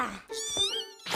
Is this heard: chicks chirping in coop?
no